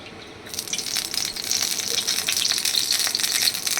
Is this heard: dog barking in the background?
no